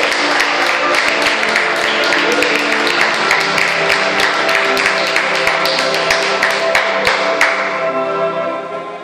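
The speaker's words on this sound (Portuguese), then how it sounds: "Dá uma salva de palmas para Ele" A church congregation claps together, a loud sustained round with sharp individual claps standing out, tapering off near the end.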